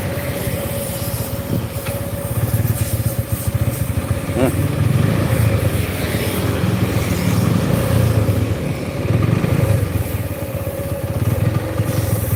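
A Honda Mega Pro Primus motorcycle with a poorly tuned carburetor is held at high revs, near eleven thousand RPM. The engine roar is loud, close and slightly uneven, and someone talks over it.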